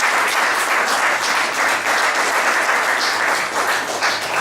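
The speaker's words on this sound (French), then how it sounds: "vous pouvez applaudir le Boxing Club Causetin" Audience at a boxing gala weigh-in in Le Creusot applauds the Boxing Club, a dense, loud wash of many hands clapping steadily throughout with no pause.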